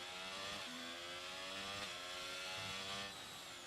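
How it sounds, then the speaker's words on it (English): Ferrari-powered Alfa Romeo and Haas Formula cars in a racing game at Spain whine steadily at high revs, the buzzing engine pitch stepping up and down with gear changes, with no talk. "Oddly enough, they don't sound like Ferraris to me, but they're Ferrari engines."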